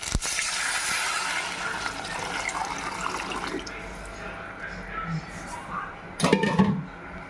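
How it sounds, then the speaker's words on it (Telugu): Tamarind pulp water is poured into a pan of frying drumstick pieces for pappucharu, giving a rushing liquid pour and bubbling hiss that tapers off, then a brief clatter of utensils near the end. "వీటిలోకి చింతపండు గుజ్జు తీసి పెట్టుకున్నాం కదా నీళ్ళు, అవి కూడా వీటిలో పోసేసుకుందాం"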